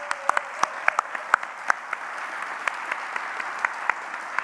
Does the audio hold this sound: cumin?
no